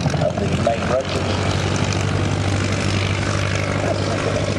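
A tandem-rotor Chinook helicopter flies a display at the 2008 Duxford airshow, giving a loud, steady roaring drone with a low throbbing hum underneath and commentary running beneath it.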